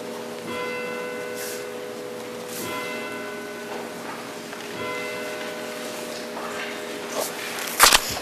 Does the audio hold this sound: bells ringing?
yes